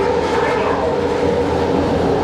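A train moving through a station beside the platform gives a loud, steady rumble and roar that fills the whole moment without letting up, heard close by.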